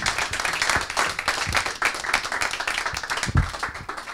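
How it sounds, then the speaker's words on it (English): An audience at a blockchain and AI meetup in Amsterdam breaks into steady, dense clapping, a crowd of many hands applauding continuously at close range. "You can give an applause."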